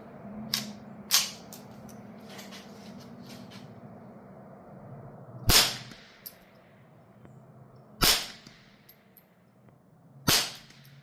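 Suppressed subsonic .22 rimfire shots, CCI Quiet ammunition fired through a B&T Tiger 22 suppressor, ring out as several sharp, spaced cracks with quiet pauses between them and no talking.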